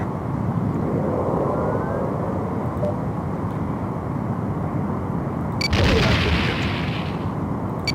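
A Romulan warbird fires weapons at a starship: a rumbling, roaring sci-fi engine drone swells throughout, then a sudden bright, crackling energy-weapon burst erupts near the end and trails off.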